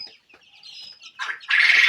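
Egyptian Fayoumi chicks, seventeen days old, chirp and cluck inside a cage, with thin high peeps followed by a sudden loud burst of fluttering and squawking at close range.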